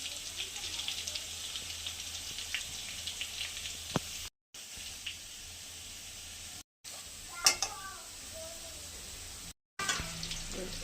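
Dried red chillies and cumin seeds hit hot oil for a tempering while cooking ghugni, giving a quiet, steady sizzle with a few soft stirring clicks and brief gaps.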